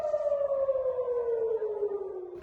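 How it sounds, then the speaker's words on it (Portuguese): Air raid warning siren sounding over Jerusalem and Tel Aviv, a loud steady wail that slowly glides downward in pitch, heard alone without voices. "sirenes de alerta soaram em Jerusalém e Tel Aviv"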